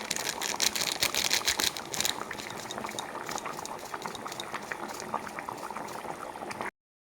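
Gravy simmering in a pan with stuffed pointed gourd and lentils, bubbling and popping in a steady close-up patter with small spits and crackles, faint overall, cutting to silence just before the end.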